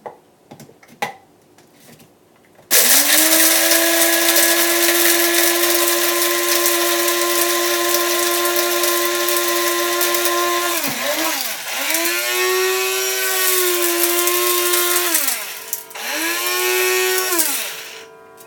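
An electric grinder whirs loudly as it grinds coriander seeds, starting abruptly after a few faint knocks, holding a steady high motor whine and then dipping and surging in pitch as the load shifts near the end.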